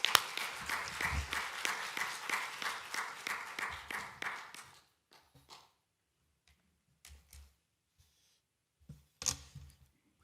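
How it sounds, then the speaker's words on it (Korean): A church congregation at a dawn prayer service claps steadily for several seconds to welcome the pastor. The applause then fades into a quiet room with only a few scattered knocks and shuffles. "나오실 때 박수로 환영합니다"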